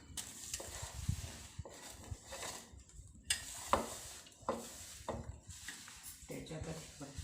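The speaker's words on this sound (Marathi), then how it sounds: "हे थोडी थोडी करून आपण आता याच्यामध्ये मिक्स करून घेऊया." Powdered sugar is stirred a little at a time into a besan ladoo mixture, heard as intermittent scraping and soft knocks of a spoon against the pan. Quiet speech runs underneath.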